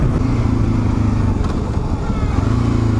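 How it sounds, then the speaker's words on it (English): Kawasaki KLR 650 motorcycle engine running during a ride along Georgian Bay, a close, steady low rumble with wind buffeting over it, loud and continuous. "Do have to say the KLR sounds great this year. Just running fantastic."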